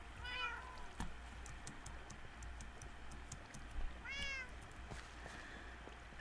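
Cats in the Minecraft video game give two faint meows, one near the start and one after a pause, over a low steady background hum with light clicking.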